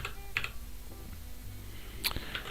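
A few sparse computer keyboard keystrokes in a quiet room, a short cluster early and another near the end, entering an Emacs Control X V G command; faint and close, with no speech.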